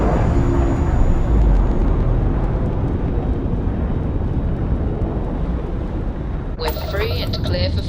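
A spaceship lifting off in the video game Starfield: a loud, continuous engine roar rumbles throughout, with a short burst of a different, warbling sound near the end.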